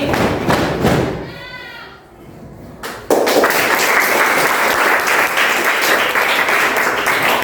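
A school class stomps its feet during a Malay action song, heavy irregular thuds from many feet in the opening second, a brief lull with bleating-like voices, then a loud, sustained burst of clapping and stamping.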